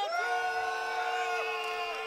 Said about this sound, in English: I think they're just cheering at this point.